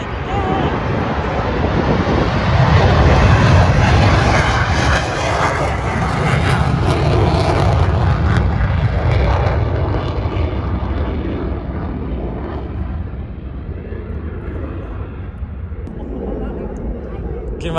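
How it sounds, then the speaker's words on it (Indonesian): Airplane flying overhead near a base in Tokyo, a loud broad roar that swells and then slowly fades over windy outdoor noise, with people talking nearby. "Oh, pesawatnya terbang tuh."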